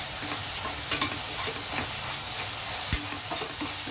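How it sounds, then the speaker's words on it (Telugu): Onions frying in oil for mutton paya, with a steady sizzle and a few scraping stirs of a large spoon around the pan, close and moderately loud, no talking. "ఇప్పుడు ఉల్లిపాయలు కొంచెం ఫ్రై అవనిద్దామండి."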